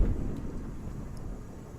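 Storm thunder on Venus in Stationeers, a deep low rumble that starts with a heavier crack and then rolls on steadily and fairly loudly for a couple of seconds.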